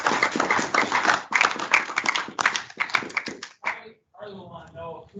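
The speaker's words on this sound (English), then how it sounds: "Let's give a round of applause to everybody." A round of applause from the audience at a Marketo and Adobe Analytics user group meetup, brisk close clapping for about three and a half seconds that breaks off into talking.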